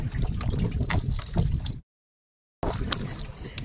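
Choppy river waves slapping and gurgling against a small fishing boat in wind on a Sundarbans river, steady close splashing that cuts out briefly before resuming.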